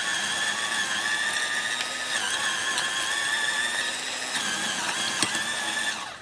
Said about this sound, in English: I showed you this tiller from Hind Pro, battery powered with a Dewalt or Dewalt type of battery